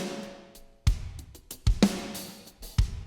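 Mixed studio drum kit from a Pro Tools session, now with reverb added back: a few loud hits at uneven spacing, each tail ringing longer and washing into the next, with lighter strokes in between.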